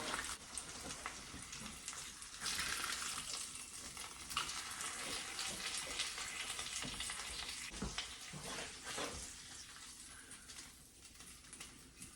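Eggs fry in a cast iron skillet that was found in the woods, giving a steady, close crackling sizzle for about twelve seconds with no talking.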